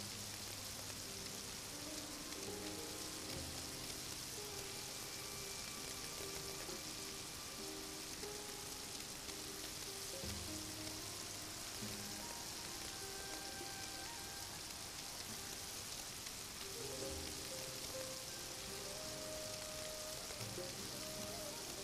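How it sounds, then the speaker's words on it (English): Lotus root pie frying in oil, a steady, even sizzle that continues unbroken throughout at close range, with faint background tones underneath. "Then gently move it and fry for another 30 seconds on each side."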